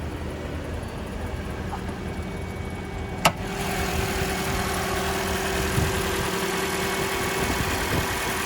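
A 2021 Toyota Camry Hybrid XLE 2.5-liter four-cylinder hybrid engine idling steadily with a low, even hum, plus a single sharp click partway through; no talking.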